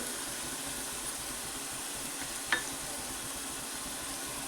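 Sambar stirred together with ground coconut, turmeric and salt, a steady soft sizzle and scrape running throughout with one brief sharper clink midway, close and alone with no talk.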